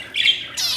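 Two short, harsh squawks from a pet parakeet or finch, loud and close, each lasting a fraction of a second with a brief gap between.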